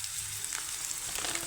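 Turmeric and garam masala frying in a pan on low to medium flame for a brinjal and peas gravy, a soft steady sizzle heard close and quiet with faint crackles throughout, no talking.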